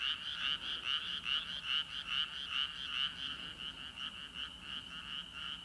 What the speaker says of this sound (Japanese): カエルの合唱しとるわ